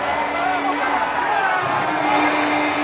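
Dense crowd roar fills an MLB postseason ballpark, a steady loud wash of cheering that swells slightly toward the end, with no break.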